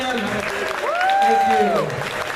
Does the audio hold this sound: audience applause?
yes